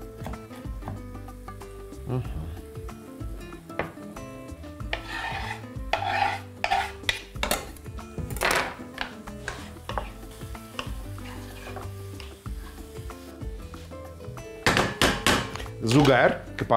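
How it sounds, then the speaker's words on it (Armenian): Knife chopping mushroom stems into small cubes on a board, a series of close, irregular chops and taps, some in quick runs, with a voice talking over them. "Այժմ մանրացնում ենք ցողունը, կտրատում ենք փոքր խորանարդիկների"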